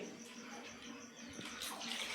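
Water pours steadily in a continuous splashing rush, close by and fairly quiet, with no voices.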